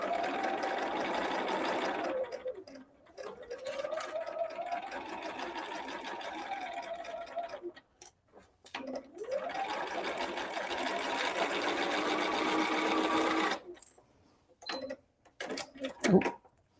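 Sewing machine stitching a quarter-inch seam on a nine-patch quilt block. Two long, steady runs of fast whirring stitches are separated by pauses, followed by short bursts and handling clicks, close and clear.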